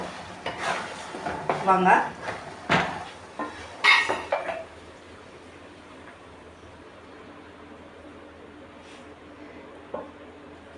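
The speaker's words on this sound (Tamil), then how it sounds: "நான் இந்த பிளேட்டில் நெய் தடவி வச்சுருக்கேன். அதில் எடுத்து நம்ம ஊற்றிக்கலாம்." Semiya kesari is spooned onto a ghee-greased plate with a burst of close clatter, scraping and clinks of the utensil against the pan and plate, then the room falls quiet apart from one faint tap; a voice briefly speaks.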